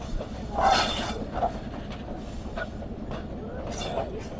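The Sialkot Express train rolling onto the loop line at Pasrur station in Pakistan, a steady rumble of wheels and carriages with a few brief metallic squeals and clunks, heard from on board.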